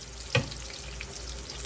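Squash pups fry in hot grease in a pan, giving a steady, dense sizzle that runs throughout, with a single brief clack of a utensil near the start.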